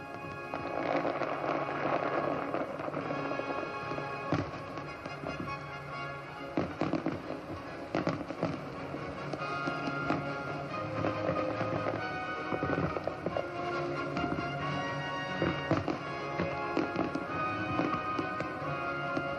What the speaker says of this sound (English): fired off a myriad of shells bursting into sparkling showers of colour